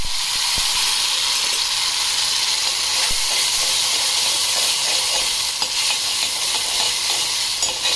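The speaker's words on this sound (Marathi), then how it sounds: "कढीपत्ता तडतडला की आपण हा मसाला टाकून छान परतून घेऊयात" Masala paste sautéing in hot oil with cumin, mustard seeds and curry leaves, giving a steady loud sizzle and hiss with occasional spatter pops and stirring throughout, no voices.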